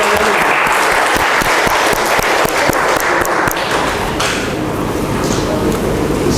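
An audience claps in sustained applause at an Indonesian seminar on passing judge selection, a dense, steady burst of many hands that stays loud from start to finish.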